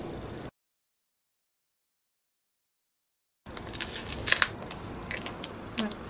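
Paper for an altered journal being cut against a cutting mat, heard as close crisp snips and crunchy scraping bursts after a stretch of total silence.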